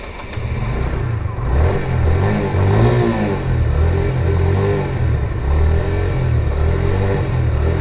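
An old Suzuki Marauder motorcycle engine runs and revs unevenly nearby, its low rumble rising and falling in loud pulses without any voices.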